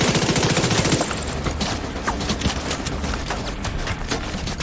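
Sustained automatic gunfire and a fusillade of shots from The Division 2 video game, loud and dense for the whole stretch with no voices.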